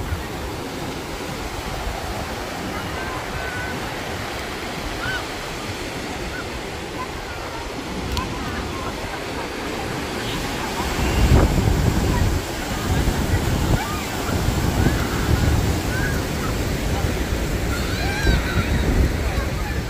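Ocean surf rolling in at Bondi Beach, Sydney, with surfers in the water: a steady, loud wash of breaking waves and wind noise on the microphone, building slightly in the second half.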